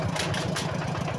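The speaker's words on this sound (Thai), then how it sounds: "รถไถเลาะ" A tractor engine chugs steadily at low pitch in a short, close burst of continuous running, without any talking.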